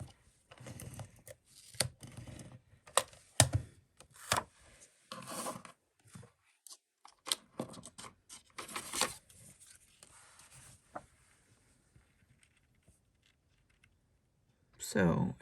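A Stampin' Up Stamp and Seal adhesive tape runner is pressed and dragged across cardstock in a series of short raspy scrapes and clicks, close and intermittent, with brief pauses between strokes and some quiet handling noise.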